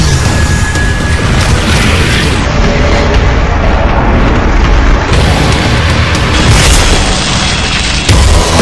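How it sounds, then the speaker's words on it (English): A loud explosion rumbles on and on in the video game Yaiba: Ninja Gaiden Z, with dense crashing debris and a heavy booming roar that keeps going for several seconds. "The explosion made the floor unstable."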